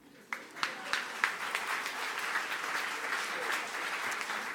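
An audience applauds at an entrepreneurship gala in Montreal, with a few sharp individual claps building quickly into steady, full applause from a large room.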